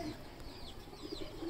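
A pigeon on a rooftop gives a few soft, low coos against faint background noise, and no voice is heard.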